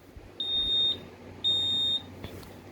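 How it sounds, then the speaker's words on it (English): Vocal smoke alarm under test, giving two long, steady high-pitched beeps of equal length separated by a short pause, loud and close in a quiet room. "that's the Signal 1 safety vocal smoke alarm, and yeah, that's test 2"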